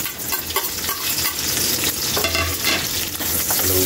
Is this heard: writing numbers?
no